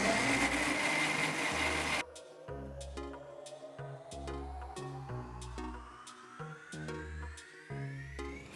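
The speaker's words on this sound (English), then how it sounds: "Blend it all together" Blender whirring through mango pieces and sugar for popsicles, a loud continuous motor drone that rises steadily in pitch as it spins up, with a short burst of noisy blending at the start.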